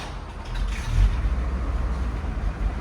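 A 1960 Cadillac Eldorado with a 390 V8 and its factory exhaust idles quietly, giving a low, steady rumble close by with no talking.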